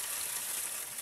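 A strong stream of water gushes from a tap, a dense, steady rushing hiss that holds close and loud for the whole second with no break.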